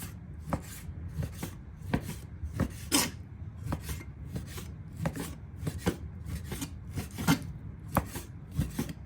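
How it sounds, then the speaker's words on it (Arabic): A knife slices boneless beef sirloin steak for Iraqi shawarma, with steady, regular cutting strokes against a board, each a short rasping chop, close and fairly quiet, repeating about every half second with no talking. "نبدي بالتقطيع. نسوي سلايسز."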